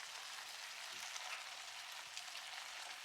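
Chicken basquaise sauce with tomato concentrate and boiling water simmering in a pan as it is gently stirred, a steady, soft sizzling bubble with faint scraping touches, continuous and close, no voices.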